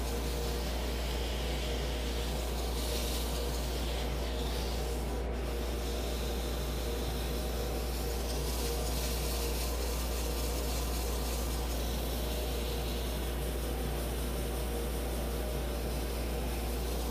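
A wooden mallet spinning on a woodturning lathe is sanded dry, giving a continuous hissing, rubbing abrasion over a steady low motor drone, close and uninterrupted throughout.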